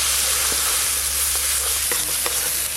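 Nigella seeds and fried ground spice paste sizzle in hot mustard oil for a fish curry, giving a steady, loud, continuous frying hiss with a few faint clinks throughout.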